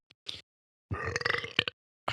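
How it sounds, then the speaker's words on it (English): Loud, close burps after drinking carbonated White Claw hard seltzer, a short blip then a long rumbling belch with a final grunt, and another burp starting at the end. "you can't get that kind of a decent burp"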